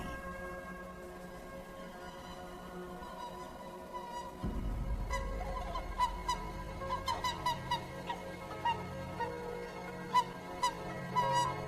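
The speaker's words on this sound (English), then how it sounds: "Hooper swans, Hokkaido's majestic symbols of winter, are back." Whooper swans in Hokkaido give loud, trumpeting honks in repeated bursts over a steady wind-like background, the calls growing more frequent after the first few seconds.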